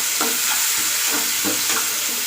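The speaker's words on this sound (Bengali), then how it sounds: "তো দেখো ধীরে ধীরে ভাজা হয়ে গেল" Onions frying in a pan with a little salt added, a steady close sizzle with soft stirring scrapes recurring every second or so.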